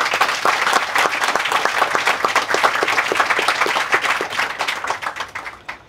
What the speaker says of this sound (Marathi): आपण सर्वजण एकदा प्लीज जोरदार टाळ्या वाजवून यांचं कौतुक करू